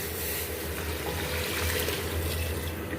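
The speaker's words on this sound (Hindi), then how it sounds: "अब इसमें हम 3 कप गर्म पानी का ऐड कर लेंगे" Three cups of hot water poured into a handi pot of browned beef for a green chilli malai curry, a steady close splashing trickle that lasts the whole moment, with no talk.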